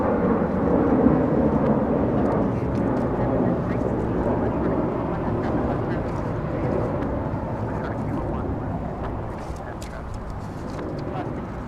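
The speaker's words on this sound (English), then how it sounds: "This is American 137 flying in from London." An American Airlines Boeing 777-300ER arriving from London lands at Los Angeles International Airport, a steady broad jet roar that holds for the whole stretch, with a person talking over it.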